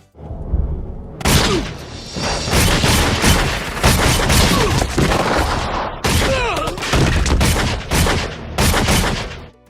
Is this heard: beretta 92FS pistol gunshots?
yes